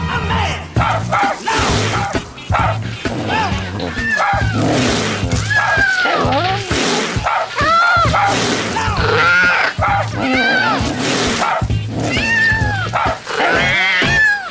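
A cat meows and yowls repeatedly in loud, rising and falling cries, mixed with yelling and crowd-like noise in a busy, dramatic scene.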